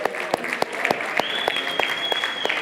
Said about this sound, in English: Some more applause there, people.